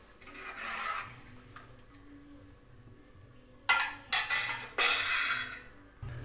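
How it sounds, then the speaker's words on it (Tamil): A ladle stirs rasam in a metal pot and a lid goes on, a few scraping clinks and clatters in bursts, close and fairly loud in a quiet home kitchen. "இப்போ நான் வந்து கிளறி விட்டு மூடி போட்டு விட போகிறேன்."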